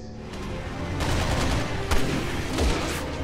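Gunfire in the video game Resident Evil 6, a quick run of several sharp game shots over a dense, rumbling background, with a couple of stronger bursts standing out near the end.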